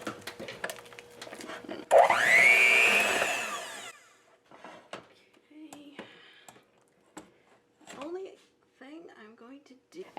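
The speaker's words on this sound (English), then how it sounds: "And then turn on the mixer." An electric mixer whirs into cooked potatoes with a tofu mixture for mashed potatoes, a loud, rising motor whine lasting about two seconds, followed by a person talking amid light kitchen clatter.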